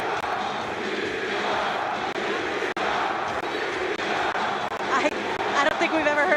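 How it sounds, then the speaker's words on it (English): A large, passionate crowd roars at a live wrestling event in Tbilisi, a dense, steady wall of cheering and shouting that swells louder near the end, with no speech cutting through. "I don't think we've ever heard a crowd like this before,"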